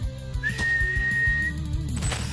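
A loud, sustained two-finger whistle holds a steady pitch for about a second over a dramatic music bed with rhythmic low drums.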